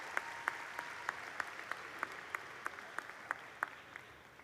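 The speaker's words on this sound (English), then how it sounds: "A round of applause for all of our stage guests and our community of supporters" Graduation audience applauding stage guests at a class of 2023 ceremony, heard as a soft, steady patter of clapping with sharper individual claps standing out at a regular pace.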